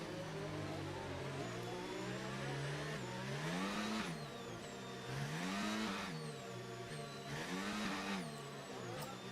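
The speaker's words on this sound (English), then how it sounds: "Some burnouts on the way to the grid spot, which we will park in now." An F1 car in the F1 25 video game does burnouts, its engine revving up and down in repeated rising and falling sweeps with tyre screech, loud and close, with no talking.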